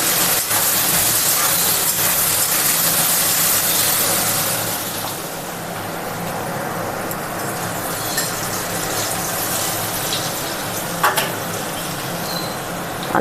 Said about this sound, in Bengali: হলুদ গুঁড়ো আলুগুলো আমি ভেজে নেব